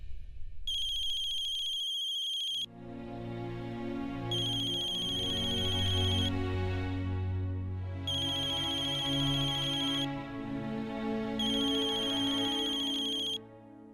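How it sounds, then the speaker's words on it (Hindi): Telephone ringing while a call is placed: a repeating electronic ringtone with bursts of bright trilling tone separated by pauses, four rings over a low steady hum, loud and near. "ये अनुराग को फोन लगाना है"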